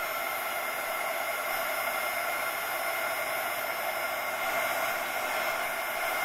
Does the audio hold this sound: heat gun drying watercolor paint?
yes